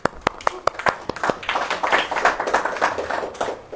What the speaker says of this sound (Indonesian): Kita aplaus untuk Dedi Ahimsa Riyadi.